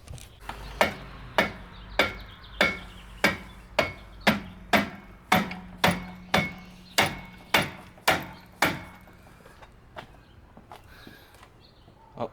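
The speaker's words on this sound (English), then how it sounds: "Let's get the old rubber mallet." Rubber mallet striking the powerhead of an Evinrude 28 hp outboard engine during removal, about fifteen sharp, evenly spaced thuds close by, stopping after ten seconds with quiet background after.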